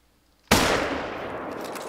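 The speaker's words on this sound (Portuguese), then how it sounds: "Beleza, acho que pegou um bom disparo" A single hunting rifle shot in the hunting game theHunter: Call of the Wild cracks suddenly and loudly, then rolls into a long, slowly fading echo.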